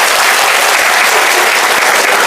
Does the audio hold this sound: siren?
no